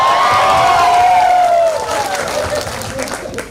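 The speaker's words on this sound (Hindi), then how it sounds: "Please put your hands together. जोरदार ताली।" A seminar audience claps and cheers in a loud burst that begins to fade partway through, with a gliding whoop-like voice rising over the applause near the start.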